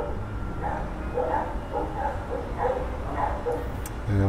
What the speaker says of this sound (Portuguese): Quando ele me vê, fica latindo lá.